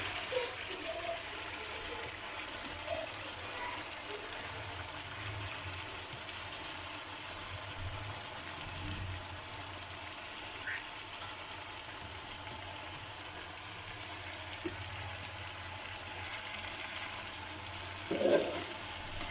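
Shredded cabbage goes into a hot pan of fried spices, giving a steady, even sizzling hiss that holds throughout with a brief louder flare near the end. No one speaks.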